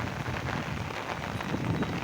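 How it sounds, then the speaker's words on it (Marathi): Heavy downpour in a Telangana village, a constant wash of rain drumming on the ground and nearby surfaces, steady and full, heard alone without voices. "भरपूर पाऊस आहे"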